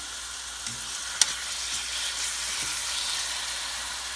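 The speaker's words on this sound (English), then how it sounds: "I'm putting it in a tablespoon of grapeseed oil" Half-inch pieces of chicken thigh frying in a tablespoon of grapeseed oil, making a steady hiss of sizzling with a couple of brief sharp knocks early on, moderately loud and close, no voices.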